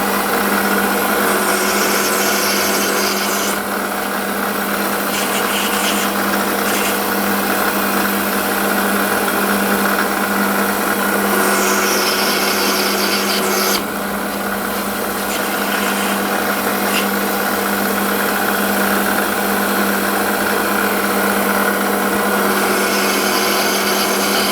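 A metal lathe turns down a small part for a finger engine, a loud steady motor whine with a constant mechanical drone and faint cutting noise that runs unbroken for the whole stretch, with no voices over it.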